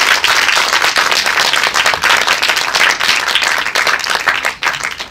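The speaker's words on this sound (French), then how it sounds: "Je vais vous demander d'applaudir." An audience at a film presentation at the Espace Saint-Michel applauds an actor, close, loud and dense clapping sustained evenly throughout with no voices.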